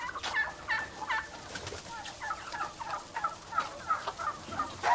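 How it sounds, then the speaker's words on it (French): Turkeys and chickens on a farm near Goslar, gobbling and clucking in repeated bursts that carry on steadily throughout, mixed with other fowl calls at fairly close range. "il élève des poulets, des dindes, des canards et des oies"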